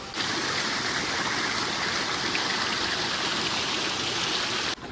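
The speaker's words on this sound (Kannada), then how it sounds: "ಮತ್ತೆ ಜರಿ ಹರಿಯುವ ಸದ್ದು ಕೇಳಿಸ್ತಾ ಇದೆ" A mountain stream on the Kumara Parvatha trek in the Western Ghats rushes steadily and fairly close, a continuous broadband gush of flowing water with no voices over it.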